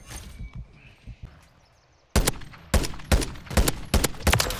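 Gunfire in the video game Modern Warfare 3: after a quiet stretch, loud close shots burst out in rapid, irregular volleys, sharp cracks and short bursts layered with faint background game noise.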